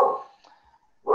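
Two sharp, close barks from a dog indoors bracket a short quiet gap, the first fading out and the second starting abruptly at the end.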